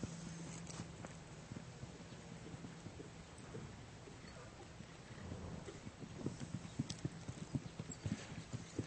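Horse walking during a riding lesson, with a steady clip-clop rhythm of hooves that starts faint and grows louder and nearer toward the end, with no talk over it.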